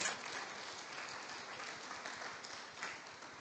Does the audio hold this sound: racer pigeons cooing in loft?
no